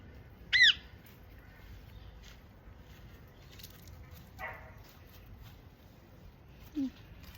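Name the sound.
bird squawking near water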